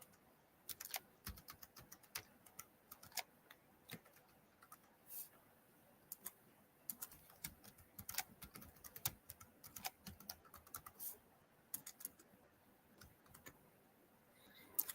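Light, rapid keystrokes on a computer keyboard come in quick irregular bursts of clicks with short pauses, close to the microphone in a quiet room.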